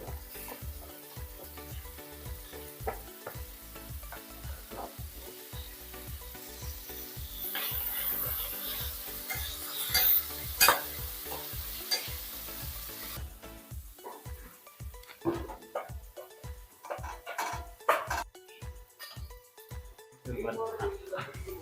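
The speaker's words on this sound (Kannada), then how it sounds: "ಇದು ಚೆನ್ನಾಗಿ ಹುರ್ಕೋಬೇಕು ಟೊಮೆಟೊ" Tomato frying in a pan for capsicum bath, a loud steady sizzle with rhythmic scraping strokes of a spatula stirring through it, and a voice speaking at times.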